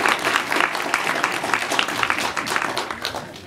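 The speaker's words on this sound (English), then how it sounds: "So, round of applause." A debate-competition audience applauds the speakers in a short, continuous burst of many hands clapping with irregular peaks, moderately loud.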